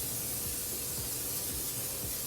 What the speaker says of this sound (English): and you're going to need some cooking spray.